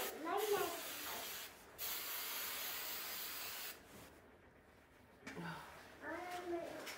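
Hairspray hisses in steady bursts onto dried grass plumes, several long sprays of several seconds each with short pauses between, while a child and an adult talk at the start and end.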